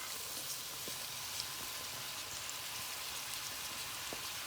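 Boiled rice fries with vegetables in a pan, a steady, fine sizzle that continues evenly, with a few faint clicks of stirring and no talking.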